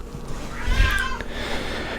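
A pet cat meowing nearby, one drawn-out meow with a rising and falling pitch, fairly loud over a low background hum.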